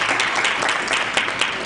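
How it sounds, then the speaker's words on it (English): Applause from an audience at a live morning television broadcast, a brief steady burst of clapping with no speech over it. "Give them a hand of applause."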